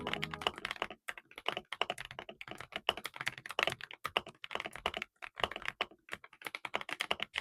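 Typing on a Lingbao K108 Pro keyboard, gasket mounted with dampening layers and pre-lubed linear switches, produces quick irregular runs of soft, muted keystroke clacks, close and clear, with short pauses between bursts.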